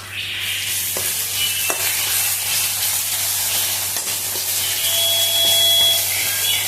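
Ginger garlic paste with salt, chili powder and turmeric sizzles steadily in hot oil for chicken curry, with occasional clicks and scrapes of stirring over the continuous frying hiss.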